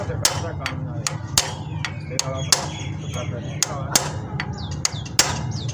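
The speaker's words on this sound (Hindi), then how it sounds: "तो इसको हम थोड़ा सा ऊपर से पंच करेंगे तो ये नीचे की जानिब हो जाएगा।" A hammer punches a Honda 125 ignition coil down into its seat. Roughly a dozen sharp metallic taps come at an uneven pace, close and distinct over a low background hum.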